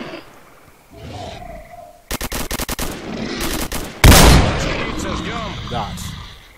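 Gunfire in the game S.T.A.L.K.E.R. Call of Chernobyl: a rapid burst of automatic shots, then one loud, booming blast that rings out and fades over a few seconds.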